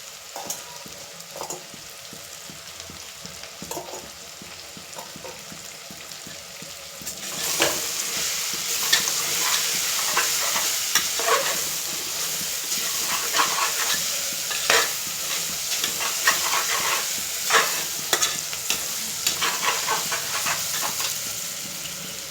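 Mint leaves frying and being stirred in a pan for vegetable pulao, a bright sizzle that jumps louder partway through, with repeated spoon scrapes against the pan and no talking.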